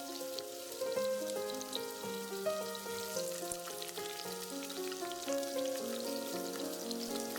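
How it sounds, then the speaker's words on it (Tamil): Food frying in hot oil in a pan while pumpkin gravy is made, a soft, steady sizzle with faint crackling pops throughout, quiet and unbroken, with music tones layered over it. "இது கொஞ்ச நேரம் இதில் ஆயிலில் ஃப்ரை பண்ணிக்கோங்க"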